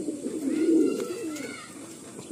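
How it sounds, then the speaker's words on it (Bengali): Pigeons of Madrasi and Malwai breeds coo softly nearby in a low, rolling murmur that swells and fades over a couple of seconds, with faint background noise and no talking. "বাহ, খুব সুন্দর পায়রা।"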